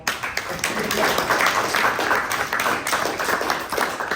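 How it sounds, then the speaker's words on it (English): An audience at a Black History Month talk on black humanism and freethought applauds, a dense, lively patter of many hands clapping continuously for several seconds with no words spoken. "So please clap for Tola."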